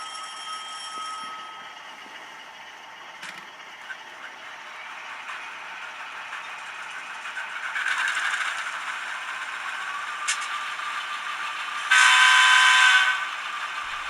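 An Atlas Alco S2 model diesel locomotive with a Tsunami 2 sound decoder runs with a steady mechanical engine drone, which swells briefly around midway and then gives a louder, horn-like blast near the end.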